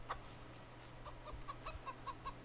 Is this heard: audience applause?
no